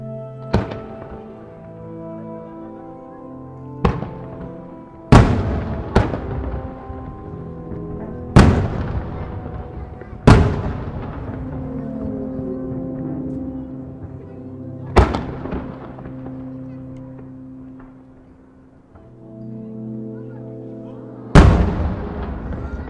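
Autumn fireworks festival at Twin Ring Motegi, with a series of big shell bursts booming loudly at irregular intervals, each followed by long crackling, rumbling decay over music and a hum of crowd noise.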